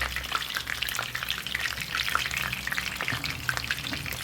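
Fish frying in hot oil until golden, a steady close crackling sizzle with dense spitting pops throughout, no talking.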